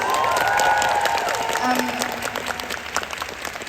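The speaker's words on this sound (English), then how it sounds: "Fan questions, round of applause." A convention panel audience at MCM London 2025 breaks into a loud, dense round of applause with some cheering, filling a large hall close to the mic and tapering slightly toward the end.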